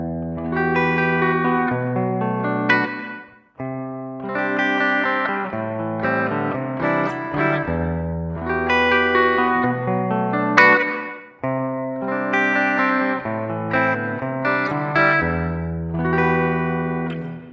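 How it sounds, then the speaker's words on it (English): Electric guitar fitted with a Duncan Design pickup, played through reverb with a distorted tone: a repeating riff of sustained chords and single notes, loud and continuous with short gaps between phrases, no talking. "Let's see if it's got the same effect with reverb"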